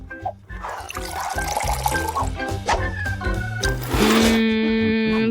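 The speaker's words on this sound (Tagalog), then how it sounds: "Ngayon ibubuhos ko ang kape sa tasa." Coffee is poured into a cup in a kitchen, a close liquid stream with gurgling that rises in pitch as the cup fills, backed by music.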